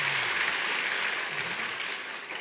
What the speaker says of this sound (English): Let's give Tane a round of applause